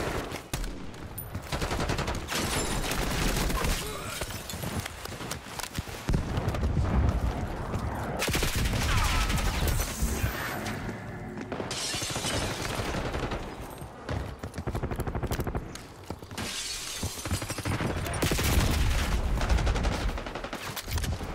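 Heavy gunfire from the Black Ops 6 beta, a Call of Duty shooter, rattles in long automatic bursts with short pauses and occasional booms, loud and close nearly throughout.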